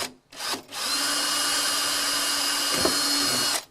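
A power drill bores holes into a wooden keyboard case, one short burst followed by a long, steady, close whine of about three seconds that cuts off sharply at the end.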